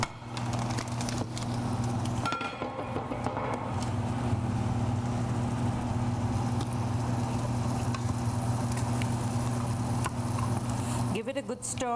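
Vegetables and tofu sizzle steadily in a pan for a Thai vegetarian dish, a dense continuous frying hiss with a low steady hum behind it, stirring and clatter near the start, and a brief pause near the end.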